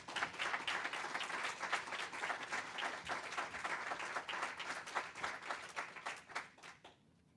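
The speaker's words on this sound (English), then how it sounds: "About a round of applause for Andy Rose" Conference audience at a workforce summit applauding, a dense steady wash of many hands clapping for several seconds, fairly distant, tapering off at the end.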